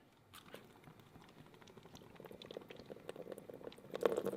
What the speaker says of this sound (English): Pouring ASMR.